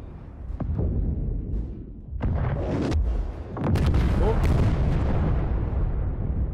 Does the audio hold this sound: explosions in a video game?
yes